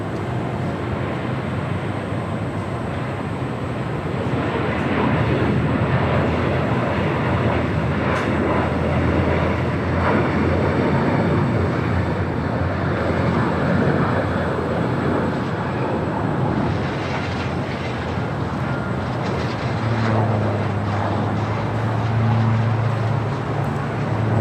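A small Southern Air Express propeller plane arrives at LAX, heard as a loud continuous engine and airflow roar that swells slightly and holds steady, with a low hum near the end.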